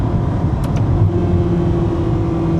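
A 2026 Ferrari V8 paired with an 8-speed gearbox, driven on the road in Portugal, holds a steady, close, low engine drone with a faint tonal hum throughout.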